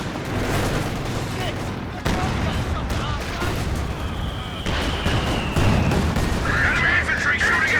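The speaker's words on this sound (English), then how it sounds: "Good AT rifle grenade" Anti-tank rifle grenade explosions in Company of Heroes 2 boom amid a dense battle of rattling gunfire and artillery, loud and continuous, with commentators talking throughout.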